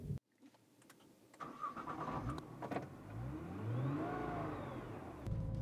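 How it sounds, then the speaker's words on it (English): A Nissan GT-R engine cranks and fires up after a few mechanical clicks, then settles and rises into rising revs as the car pulls onto a racetrack. It is close and moderately loud, with no talking. "as I'm heading out onto the racetrack here in the GT-R"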